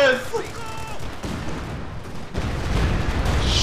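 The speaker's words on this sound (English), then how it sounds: "Here comes the Stuka!" Stuka dive bomber attack in a video game: a loud, continuous rumble of gunfire and blasts building toward the end, with a brief falling whine at the start.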